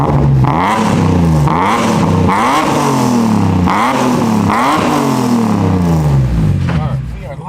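A BMW E46 M3 pulls away and accelerates hard from inside the cabin, the engine loud and close as it climbs through repeated rising revs with gear changes between them.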